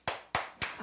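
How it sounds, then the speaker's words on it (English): Three sharp, evenly spaced hand claps in quick succession, close and crisp, with quiet between them. "Clap if you agree."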